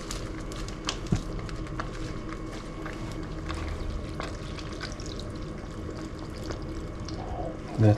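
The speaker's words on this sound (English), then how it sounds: "I'm just going to add the rest of the ingredients and some more water." Water poured into a pot of chorizo and cabbage soup, a steady close splashing pour running for several seconds with a louder burst at the very end.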